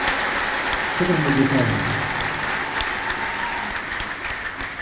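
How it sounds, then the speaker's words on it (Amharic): A church audience claps continuously and loudly at a prophet's gathering, a steady wash of many hands, while someone speaks over it briefly. "አሁን እስቲ አጨብጭቡ ሁላችሁም"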